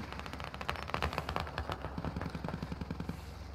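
Heavy .50 caliber gun in a video game firing in rapid bursts, loud and close, with a fast clattering rhythm of shots running through the whole stretch.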